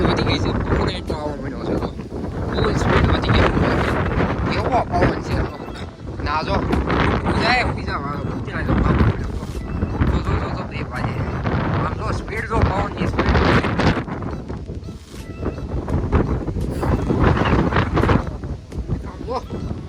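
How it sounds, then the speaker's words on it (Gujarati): Strong wind from a summer storm roars and buffets the microphone without letup, loud and constant, with a voice talking faintly underneath. "વાવાઝોડામાં બહુ પવનની સ્પીડ બહુ વધી ગઈ છે"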